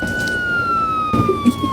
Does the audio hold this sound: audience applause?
no